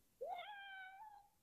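A cat gives a single clear meow, rising and then drawn out, fairly close and quiet against a near-silent background.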